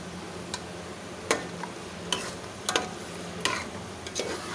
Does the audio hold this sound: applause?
no